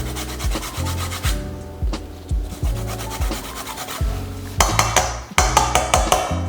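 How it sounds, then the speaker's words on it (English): Lime zest being grated with rhythmic rubbing strokes, a series of short scraping passes that grow brighter and louder toward the end, with no talking. "I like to add the zest of a lime to mine."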